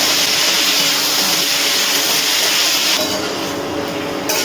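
Ridge gourd fries with ginger and green chili paste on an induction cooktop, giving a loud, continuous close-up hiss of sizzling oil that eases slightly toward the end; no speech.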